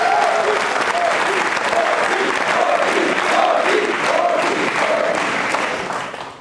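A large audience at a televised Hindi public event applauds loudly and continuously, a dense close roar of clapping that holds steady before trailing off at the very end, with a voice audible beneath it.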